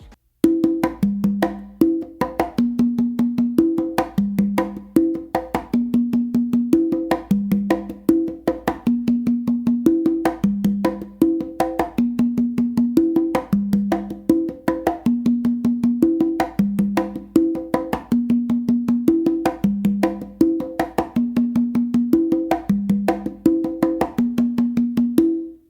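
Hand drum, likely congas, playing a steady weak tumbao pattern: repeating open tones and slaps in a looping rhythm, close and clear, heard alone with no talking.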